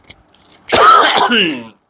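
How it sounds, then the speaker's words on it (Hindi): One sharp, close cough bursts out after a brief quiet moment, harsh and throaty, then fades. "खांसी आ गई क्योंकि ये बोलने में टेंशन होती है मुझे।"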